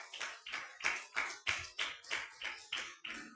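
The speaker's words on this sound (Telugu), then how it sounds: "చప్పట్లు కూడా దేవుని స్తుతిస్తారా?" A church congregation claps in praise during a Sunday service: steady, rhythmic group clapping in a regular beat of roughly three claps per second, fairly close and clear, with no talking over it.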